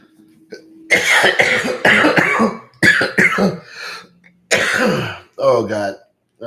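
Several harsh throat-clearing coughs in short bursts, close and loud, separated by brief pauses.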